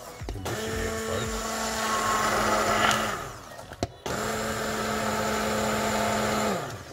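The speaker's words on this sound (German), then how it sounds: "Das püriere ich jetzt nur noch fertig und dann sehen wir uns gleich wieder." Blender purees a potato, spinach and wild garlic soup in two loud, sustained whirring runs close by, with a brief pause and a knock between them.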